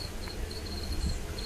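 Crickets kept as feeder insects for a pet lizard chirp steadily in a high, continuous trill, faint and close, with low room rumble underneath and no talking.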